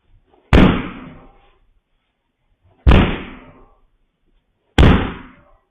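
Three heavy, isolated thuds of a man kicking a front door in Gwinnett County, Georgia, each a sharp loud impact with a short rattling decay, spaced about two seconds apart with quiet between.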